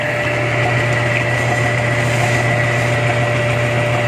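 Engine under an additive pressure test runs steadily at around 25 PSI, a loud, constant mechanical drone with a fixed hum and no pauses, heard close up without talk.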